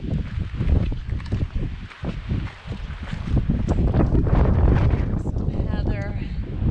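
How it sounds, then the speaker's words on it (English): Wind gusting and buffeting the microphone on a rainy hiking trail along the West Highland Way in Scotland, a steady loud rush with brief talk at the start. "It's still raining a bit. Nothing terrible though. The wind is at our backs"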